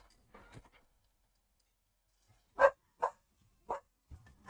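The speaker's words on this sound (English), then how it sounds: "Bloody dogs." Dogs barking nearby in a few sharp, separate barks spaced about half a second to a second apart, after a brief faint stir, with no talking.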